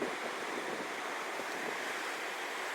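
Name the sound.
waves crashing in windy cove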